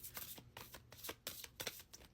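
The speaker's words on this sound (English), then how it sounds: "Or I could just shuffle all day." Tarot cards being shuffled by hand, a rapid series of papery riffles and slaps in an uneven rhythm, close and fairly quiet with no talking.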